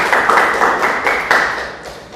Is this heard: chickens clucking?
no